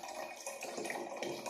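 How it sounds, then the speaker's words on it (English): Wine pours from a bottle into a glass demijohn as a faint, continuous liquid trickle and gurgle, close and alone. "pour the contents of the wine bottle"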